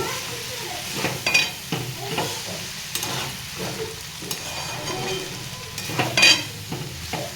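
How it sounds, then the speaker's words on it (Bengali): Chow mein stir-fried in a wok on a gas stove, a continuous sizzle broken by repeated scraping and stirring strokes and light clanks of the pan, with no talk. "চাউমিনটা বানাচ্ছি একটু একটু।"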